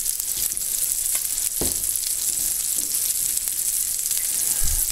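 Two big dabs of butter melt in a pan on high heat, giving a steady, close hiss of sizzling throughout with a few faint clicks and stirring taps, and no talking.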